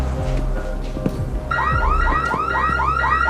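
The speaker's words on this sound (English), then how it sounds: "The alarm should be going off right about now." Security alarm going off in an art gallery, starting abruptly partway through as a loud, rapidly repeating electronic whooping tone over a background hum and a few soft clicks.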